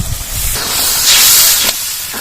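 Spice-wash water poured into hot frying masala bursts into a loud, close hiss that swells for about a second, then drops off sharply to a lower sizzle.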